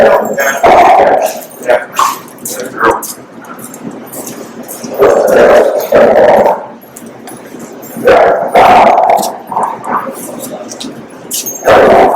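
A Shar-Pei mix dog barks and yips in loud bursts during a training session, three clusters of sharp barks separated by quieter gaps, with a trainer's voice faintly in between.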